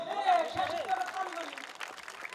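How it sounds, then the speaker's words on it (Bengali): Audience at a local function in Bishnupur clapping, a loose wash of hand claps heard close under a voice talking over it throughout. "সবাই একটা হাততালি দেই।"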